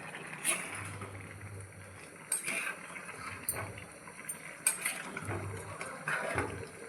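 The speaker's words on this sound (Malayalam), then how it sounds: "നമുക്കൊന്ന് ഇളക്കി കൊടുക്കാം." A pot of pork curry is stirred with a spoon, giving scattered metallic clinks and scrapes against the pot alongside low bubbling, close and fairly quiet.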